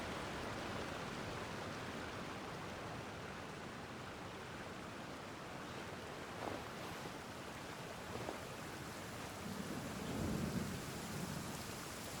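Steady heavy rain hisses without pause in the video game Genshin Impact, with a low roll of thunder rumbling near the end.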